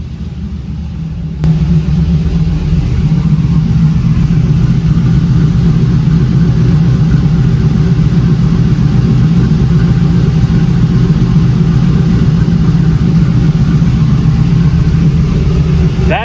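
A car engine, an LS1 V8 in a third-generation car, idles through Flowmaster exhausts with a deep, loud, steady exhaust rumble that runs on without a break.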